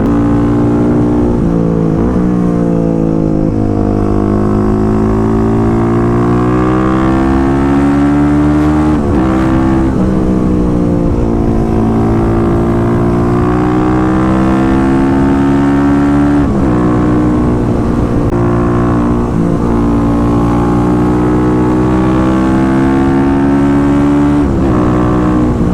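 Kawasaki KLX350SM supermoto motorcycle ridden hard on gravel, a loud close engine rising and falling through repeated revving climbs and gear shifts, with steady wind and road noise underneath.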